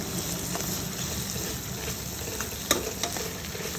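Bitter gourd and onions frying together in a pan for a bitter-gourd curry, a steady soft sizzle with occasional stirring scrapes and small clicks, close and moderately quiet, with no talking.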